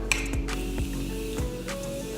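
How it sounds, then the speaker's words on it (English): Morphe setting spray misted onto a face during an everyday makeup routine: a few short, close pump bursts of fine spray over a faint mechanical hum, with no talking. "We're gonna just spray her."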